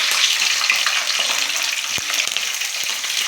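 Green chillies and mustard seeds frying in a pan of oil, a steady close sizzle with faint stirring clicks, no voices.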